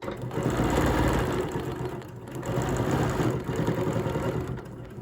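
A sewing machine stitches a quilt border in a steady, continuous mechanical hum and rapid needle chatter, close and fairly loud, with a brief slowdown near the middle before it runs on.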